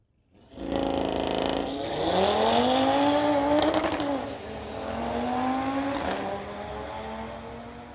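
An Audi and a Mini Cooper launch side by side at a street-legal drag race, engines revving hard and rising in pitch through the gears, loud and close, fading slightly as they pull away.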